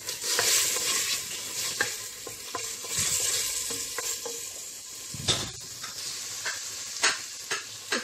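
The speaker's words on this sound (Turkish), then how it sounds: "Etimi bu şekilde kavurdum." Meat sautéing and being stirred in a pan for a Turkish onion stew, with steady sizzling and frying broken by repeated scraping stirs and a few louder utensil knocks, close and with no talk.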